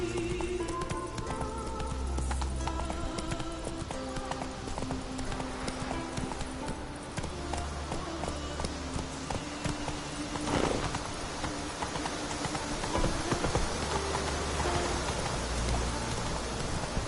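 Horse hooves gallop in a PS4 video game, a quick continuous clip-clop over a busy, rain-like ambient background that persists throughout.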